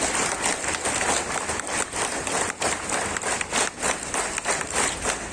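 An audience at a police lines ceremony in Bareilly applauds an honoured citizen, a dense burst of clapping from many hands that stays steady and fairly loud for several seconds with no speech.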